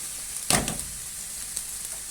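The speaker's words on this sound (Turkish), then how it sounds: "Şöyle güzelce kavrulsun. Şöyle karıştıralım. Hemen biberlerini ekliyorum." Onions and peppers sauté in a pan, sizzling softly and steadily, with one brief stirring clatter early on.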